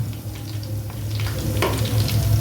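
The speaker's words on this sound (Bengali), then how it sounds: "গন্ধরাজ লেবুর সেন্ট বেরোচ্ছে ফাটাফাটি একটা সেন্ট তো ভাজা হয়ে গেছে আমি তুলে নেব" Chicken pieces with gondhoraj lemon fry in hot oil with a continuous moderate sizzle over a low, steady hum. No one speaks.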